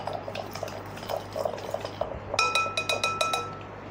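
Glass bowl and spoon clinking as fish kabab marinade with vinegar and salt is stirred, a soft scraping at first and then a quick run of bright, close clinks toward the end.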